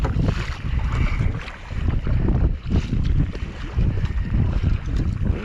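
Choppy water slaps and splashes against a kayak coming out of the lee of an island toward the Chain Islands, with steady wind buffeting the microphone throughout and no talking.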